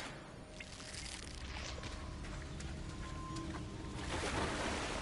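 Steady rushing water from a waterfall in the video game Hogwarts Legacy, a constant broadband wash that grows slightly fuller toward the end, with faint game tones layered over it.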